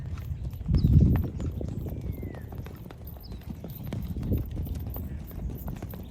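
Hoofbeats of a gaited horse during a riding clinic, clip-clopping in an uneven walking rhythm on the ground outdoors, with a brief louder cluster of steps and faint background voices.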